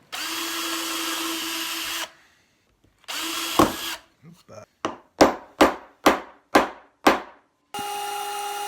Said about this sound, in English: just relieving those holes with a small drill bit